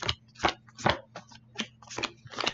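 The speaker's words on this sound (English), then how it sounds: "I am going to power shuffle this." A deck of trading cards being power shuffled, with a series of quick, crisp card riffles and snaps in an uneven rhythm, close and fairly quiet.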